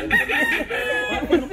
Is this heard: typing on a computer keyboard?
no